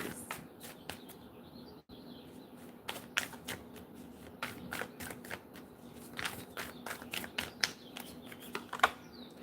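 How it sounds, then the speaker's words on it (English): Tarot cards are shuffled in quick riffling bursts, a series of crisp flicks and taps at close range with a faint background hum. "gonna get a good shuffle, y'all."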